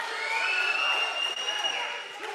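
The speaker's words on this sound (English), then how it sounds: "It looks like the crowd's into this one too as well." A fight-night crowd at a combat sports event cheers and roars steadily, a broad wash of shouting and whoops with a few higher voices rising above it, fairly loud and sustained.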